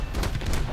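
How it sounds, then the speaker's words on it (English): A 37mm cannon on an ITP M-1 fighter in War Thunder fires a short, loud burst of heavy booming shots, dense and close, with no talk over it. "37mm cannon can also be used against ground targets."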